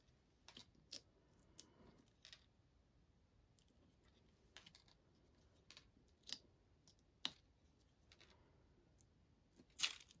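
Scissors fussy cutting small paper and card pieces for a handmade Taco Fiesta greeting card, giving quiet, scattered snips and crisp clicks at an irregular pace, close up and fairly faint, with no talking.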